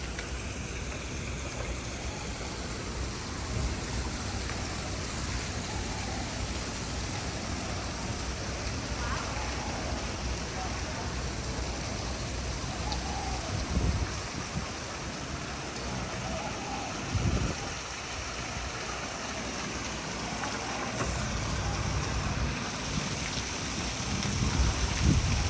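Steady rain falling across Senado Square in downtown Macau, a continuous dense hiss of drops on pavement with a few louder splashes and thumps, outdoors with no talk.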